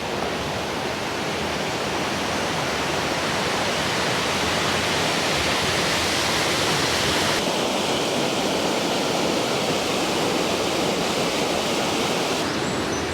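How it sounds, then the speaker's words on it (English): Water cascades continuously from an upper canal into a lower one in a steady, rushing roar, like a small waterfall tumbling nearby, on the Birmingham Main Line canal, with no voices. "Water cascading down into the lower canal from the upper one, like a little waterfall."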